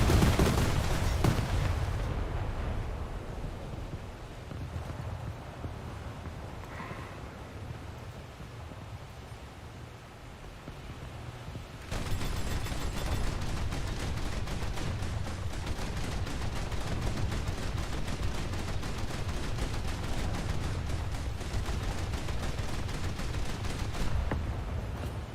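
Naval 20 mm anti-aircraft guns fire in a game, a dense, sustained rattle of rapid gunfire that drops back briefly and then resumes louder and continuous for the rest of the stretch.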